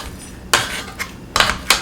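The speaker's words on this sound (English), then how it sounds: "And just do a little bit of a stir with your masher as you go." A potato masher works through potatoes and butter in a pot, giving three or four sharp metallic clanks and scrapes against the pan, close and spaced apart, between near silence.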